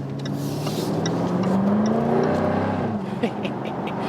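Jaguar F-Type R-Dynamic P450 V8 cabriolet, 2020 facelift, accelerating through the gears, the engine note climbing steadily to a loud rev before dropping at a shift, with faint exhaust crackle at the end.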